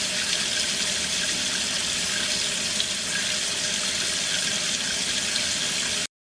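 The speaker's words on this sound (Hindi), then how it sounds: "हाथों को पानी से भिगोना" A tap runs steadily as hands are wetted for handwashing, giving a constant, close splashing hiss that stops abruptly near the end.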